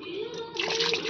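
Kewra water pours into a dish during home cooking, a short liquid splash and trickle close by with faint voices in the background.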